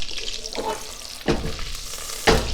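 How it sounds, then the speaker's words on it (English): Butter and sesame oil sizzle steadily in a pan while browning, a close, dense crackling hiss with a few louder bursts as the food is stirred, no voices. "Now I'm going for like a brown butter kind of deal, but I don't want to burn it"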